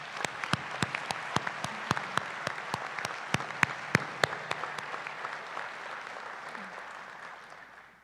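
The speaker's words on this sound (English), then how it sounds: "let's give everyone a huge round of applause" Scattered audience members clap at a nursing school pinning ceremony. Sharp, distinct individual claps ring out over a softer wash of applause, then taper off and fade toward the end.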